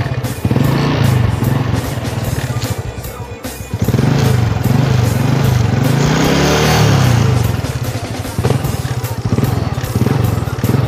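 Honda Wave 110i motorcycle with an unmodified engine idling and revving through its exhaust, a loud close continuous putter that rises and falls, with someone talking briefly over it.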